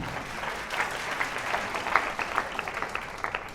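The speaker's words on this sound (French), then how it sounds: "On l'applaudit bien fort." Applause from an audience at a fashion show, a sustained wash of clapping hands throughout with a few sharper claps standing out, no voices over it.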